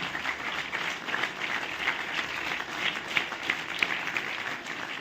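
Applause at a sports award ceremony honoring athletes: a steady wash of many hands clapping from a seated audience, moderately loud and continuous throughout, with no speech over it.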